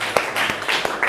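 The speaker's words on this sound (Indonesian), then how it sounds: "Nah, tepuk tangan sekali lagi." Hands clapping in a classroom after a poster presentation, a short burst of sharp claps with distinct individual strikes close by, the group clapping together briefly.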